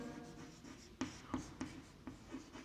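A pen writes on a board while a derivative function is noted down, giving several short, close scratchy strokes in an irregular rhythm, quiet and alone.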